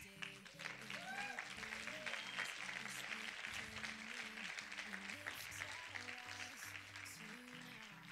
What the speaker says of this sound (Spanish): démosle un fuerte aplauso a José Andrés.